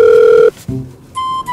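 An outgoing mobile phone call rings out with loud electronic tones, a steady buzzing ring, a short gap, then another tone burst in quick succession.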